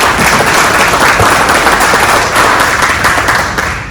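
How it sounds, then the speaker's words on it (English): Loud, dense applause from a sizeable crowd at a senior fraud awareness session, continuous clapping throughout that eases slightly toward the end. "Our great district attorney, Summer Steffen, give her a round of applause."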